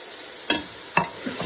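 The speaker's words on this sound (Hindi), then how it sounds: "इसको अच्छे तरह से मिक्स कर लें" Chicken masala with dry coriander, red chili, black pepper, cumin and garam masala is stirred in a frying pan, two sharp scraping strokes and a softer third over a low steady sizzle.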